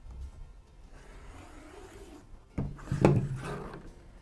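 A rotary cutter slices a 2.5-inch fabric strip along a ruler, a brief soft scrape near the end, close and fairly quiet after a stretch of near silence.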